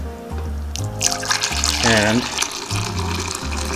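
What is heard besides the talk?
water being poured into an Instant Pot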